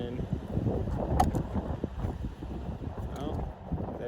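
Gusty wind buffeting the microphone outdoors during a GepRC TinyGO drone range test, a continuous low rumble with uneven surges, and a faint voice beneath it.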